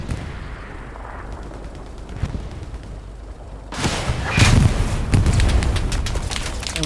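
A rocket blasts in a competitive video game match: a sudden loud, broad explosion bursts in after a few seconds of quieter game ambience, followed by rumbling crackle and further sharp impacts.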